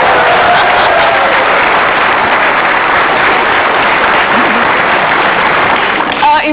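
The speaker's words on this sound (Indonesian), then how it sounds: "Sekali lagi dong tepuk tangannya." Applause fills an Indonesian television talk show studio as the audience claps for a mayor, a dense steady roar of hands lasting throughout, loud and close with no break.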